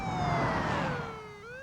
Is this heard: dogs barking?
no